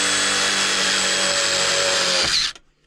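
A power drill drives self-tapping screws during a Worcester Bosch boiler installation, giving a loud, steady, close whine that runs for over two seconds before cutting off abruptly into quiet.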